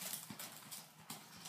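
Hooves of a trotting horse, an Arabian, clip-clop in a steady rhythm at moderate distance, soft and outdoors, with no voices over them.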